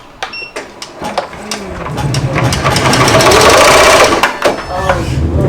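An embroidery machine stitches a varsity youth jacket, a rapid mechanical whirring and clatter that builds steadily and runs loud and close, with brief voices near the start.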